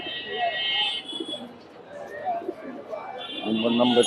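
Pigeons at the Kaptan Bazar pigeon market, with bird calls and soft cooing close by, partly masked by people talking nearby.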